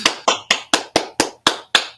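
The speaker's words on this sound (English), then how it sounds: "I clapped too loud and hurt myself" Hand claps, eight sharp loud slaps in a quick even rhythm, close and unaccompanied by talk.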